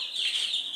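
A hen gives a short, close, high-pitched cluck, a single brief call on its own.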